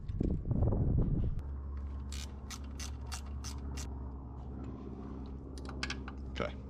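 A ratchet works 10 mm bolts loose from the back of a Subaru turbo during a downpipe install. There is a loud bump at the start, then a series of quick, sharp clicks and ratcheting bursts close by.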